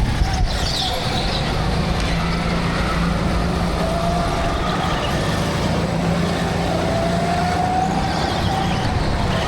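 Go-karts race around an indoor karting track, their engines a continuous loud buzzing drone with faint tire squeals rising and falling as the kart steadily circles the course.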